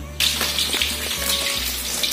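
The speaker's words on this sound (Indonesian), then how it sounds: "Itu yang sebelah saya menggoreng bandeng, jadi berisik ya." Milkfish fries in a pan nearby with a steady, loud hiss and sizzle, over a low electrical hum, with no talking.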